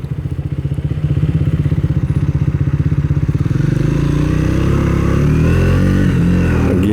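A Triumph Speed 400 single-cylinder motorcycle pulls hard through a very short first gear, its close, loud, rapid engine pulses rising in pitch as it accelerates, with some mechanical clatter.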